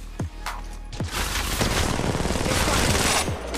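Gunfire in the Apex Legends Mobile video game: a few separate booming shots open the clip, then a loud, continuous burst of rapid fire follows, close and dense.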